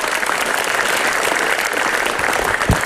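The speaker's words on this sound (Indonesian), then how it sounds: "Boleh tepuk tangan sekali lagi buat Limbat" Audience applause for the magician Limbad at a Komika Vaganza stand-up comedy show, a dense, steady wash of many clapping hands filling the whole stretch, loud and close with a brief thump near the end.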